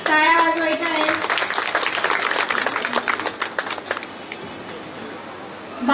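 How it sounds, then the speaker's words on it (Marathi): An audience at a school event claps for the teachers, a burst of applause that swells then thins out into scattered claps, with voices and children's chatter over it. "सगळ्यांनी सगळ्या शिक्षकांसाठी टाळ्या वाजवायच्या आहेत."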